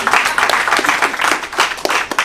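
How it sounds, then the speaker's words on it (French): A crowd claps and applauds continuously, dense and lively throughout the short burst. "On peut applaudir."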